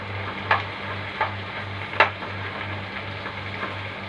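Sausage frying and being stirred in a pan, a steady sizzle with a few sharp scrapes of the spoon against the pan and a low hum underneath, no voices.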